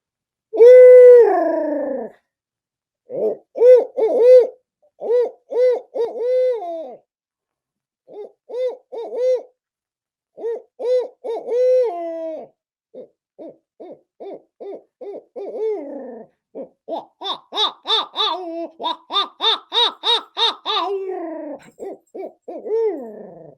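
A turkey hunter's mouth-blown owl hoot imitation: a long run of rhythmic eight-note hoots, loud and close, climbing into a faster, higher, laughing cackle toward the end, with brief pauses between phrases and no talk.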